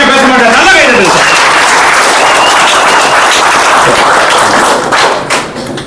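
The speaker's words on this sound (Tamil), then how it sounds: "நல்லா கைதட்டு சார்." Audience clapping fills a meeting hall in Madurai, a dense, loud, steady patter of many hands lasting several seconds before thinning out at the end, with voices faintly mixed in.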